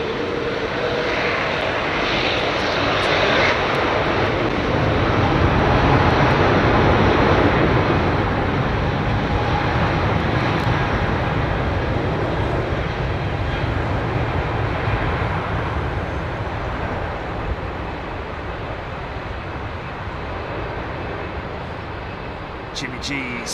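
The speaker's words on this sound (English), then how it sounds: "Just a massive aircraft." A massive double-decker airliner roars past at London Heathrow Airport, a loud broad jet-engine rumble that swells and then slowly fades over about twenty seconds, with people talking faintly beneath it.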